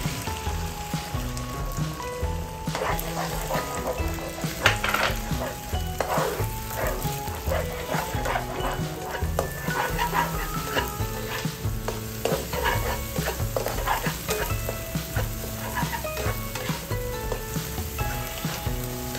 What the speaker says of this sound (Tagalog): Mainit na yung ating kawali. So ilagay na natin yung ating itlog.